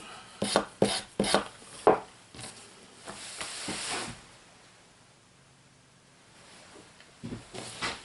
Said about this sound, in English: I'm scraping with the edge of the knife.